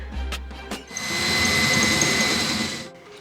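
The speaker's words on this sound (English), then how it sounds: "Our drilling professional Garen will drill these 3 holes here." A couple of short taps and thumps, then a power drill whines steadily into a wall for about two seconds while drilling holes to install a mantel, before stopping.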